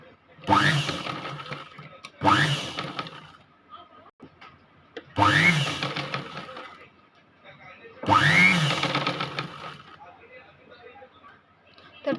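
A sewing machine stitches blouse parts for a princess-cut blouse in four separate runs of a couple of seconds each, each starting abruptly, with brief quiet gaps between them.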